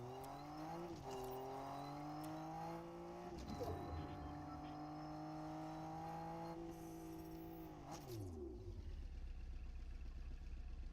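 A car engine in a video game drives steadily, its harmonic drone rising and falling as it shifts and accelerates, then drops to a low idle rumble near the end; no voices.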